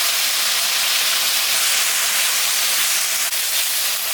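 Ginger, cumin, green chilli and dried chilli paste sizzles with fried potatoes in a home kitchen pan, a loud, steady hiss of frying oil that runs unbroken throughout, with no talking.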